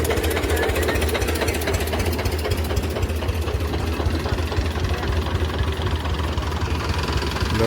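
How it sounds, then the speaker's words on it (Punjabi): A tractor engine rumbles steadily and loudly, with a low knocking chug that continues throughout, close by and unbroken. "ਆਪਣਾ ਟਰੈਕਟਰ ਆ ਰਿਹਾ ਜੀ"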